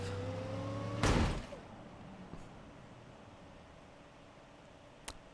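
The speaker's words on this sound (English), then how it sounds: "The engine just overtalks itself to death." Van engine in the BeamNG Drive video game revving, then a sudden loud burst as it blows apart, followed by quiet rattling and faint clicks.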